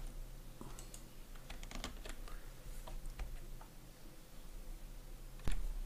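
Computer keyboard keys pressed while adjusting brush settings in Photoshop: scattered, fairly faint clicks and taps with one sharper, louder press near the end, no talking.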